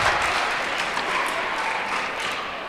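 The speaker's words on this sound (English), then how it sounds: "And a big round of applause from the fans." Fans in the stands at a pro pickleball team match applaud together in a broad, steady wash of clapping that slowly fades over a few seconds.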